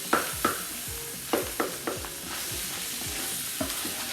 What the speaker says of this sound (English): just keep it moving so it won't be stuck to your pan